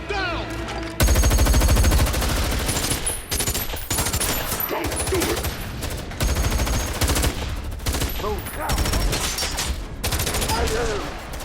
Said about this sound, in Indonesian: Baku tembak pecah di tempat itu.